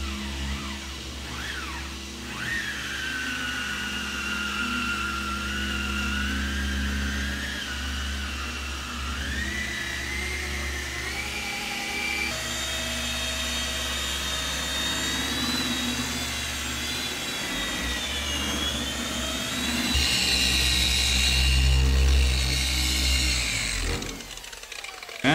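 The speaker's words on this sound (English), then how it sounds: "This is a rotary polisher. There's a really heavy cut wool pad on here" Rotary polisher with a heavy cut wool pad working car paint with heavy cut compound, a steady close whirring motor drone whose pitch shifts up and down with load over a sustained run.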